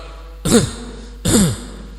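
A man clears his throat twice, each a short, close, gravelly rasp about three quarters of a second apart, against a quiet room hum.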